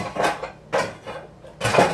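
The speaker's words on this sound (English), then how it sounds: "let me get my skillet or frying pan, whatever you want to call it" Three sharp metallic clanks of a frying pan (skillet) being handled nearby, spaced out with short pauses between them, while cooking jambalaya.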